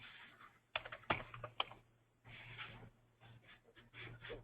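Faint keystrokes on a computer keyboard come in uneven bursts of quick clicks, some louder than others, with short pauses between runs and no speech.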